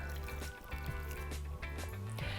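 About a cup of water pours into a crockpot of sweet potato stew with beef, bay leaf and crumbled bouillon cubes, giving a close, steady liquid splashing and glugging over a low background hum.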